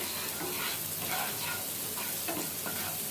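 Onions with a pinch of salt fry and sweat in a pan, making a constant, dense sizzle with soft periodic stirring swishes throughout and no voices.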